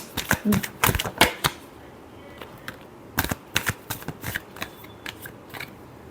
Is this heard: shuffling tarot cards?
yes